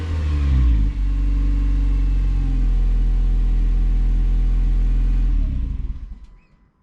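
A hybrid car's engine fires up in an engine bay and runs with a steady, loud droning idle for several seconds before shutting off and fading out at the end.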